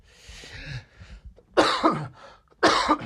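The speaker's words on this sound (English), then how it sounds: "I'm coughing." Several coughs close to the microphone: a softer one first, then two sharp, loud bursts spaced about a second apart.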